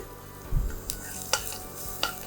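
Onions sweat quietly in a pan, a soft low sizzle broken by a dull thump and a few sharp scraping clicks of a utensil stirring.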